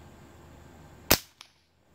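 A single sharp gunshot from a .22 firearm shooting Aguila Super Colibri ammunition during backyard plinking, a fairly quiet crack followed by a faint secondary tick and then silence.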